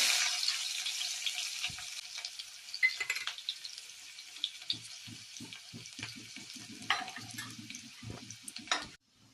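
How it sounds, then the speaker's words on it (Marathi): Garlic sizzling in hot oil on a gas stove for a bajri ukad, a steady bright hiss with a few soft clinks and taps of utensils near the end, close by and with no talking. "आता आपण तेल टाकूया लसूण टाकूया"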